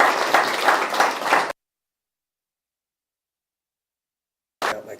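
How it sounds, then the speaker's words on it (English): An audience applauds as a new speaker takes the podium at a public event, a dense burst of clapping for about a second and a half that cuts off abruptly into silence, with a short rustle of noise returning at the very end. "And you can clap for Jay."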